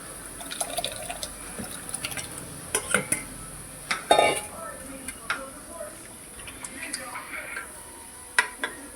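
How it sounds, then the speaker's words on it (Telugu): A wooden churner works cooked mango into dal in a pot for mango pappu, giving soft wet squelches, drips and light knocks against the pot, faint and irregular throughout. "ఇగో ఇలాగా కవ్వంతో ఆడించాం"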